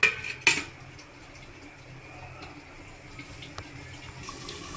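A lid clatters onto a pot of simmering home-cooked chicken on a gas stove, a sharp metallic clank near the start followed by a second knock, then a quiet low kitchen hiss.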